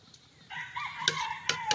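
A rooster crows nearby, one drawn-out cock-a-doodle-doo rising and wavering, clear and fairly loud over a quiet outdoor background.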